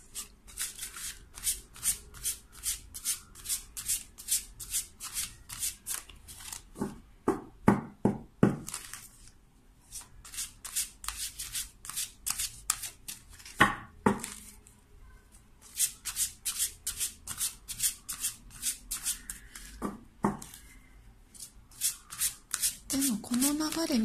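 Lenormand fortune-telling cards being shuffled by hand in repeated quick riffling bursts, close and crisp, with brief pauses and a few soft knocks between runs, and a voice briefly speaking near the end.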